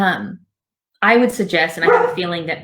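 A dog barks a few times close by over continuous speech from someone talking, the barks mixed in with his voice rather than standing alone.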